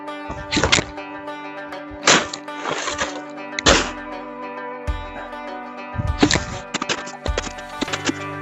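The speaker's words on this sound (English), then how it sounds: "Shoveling all this out is going to take a whole lot more than I thought it was going to." Shovel scraping and thudding in snow while digging out a fire pit at a cabin, a string of irregular crunches, scrapes and knocks close by, with steady tonal hum underneath throughout.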